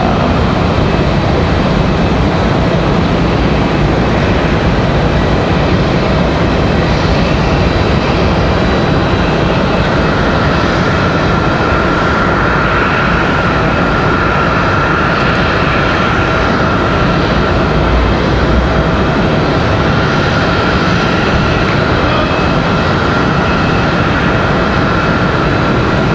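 An Aeromexico Connect airliner arrives at Raleigh-Durham International Airport from Mexico City, its engines giving a loud, steady roar that persists throughout with no pause.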